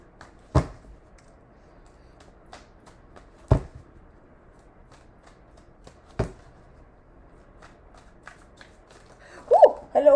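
Tarot cards shuffled in a few separate bursts, each a short crisp riffle spaced several seconds apart, with quiet room tone between and a brief scuffle near the end.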